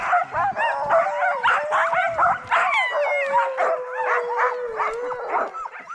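Sled dogs bark, yip and howl in an excited overlapping chorus while being hooked up to a sled, continuous and close, with a long rising howl threading through the barking.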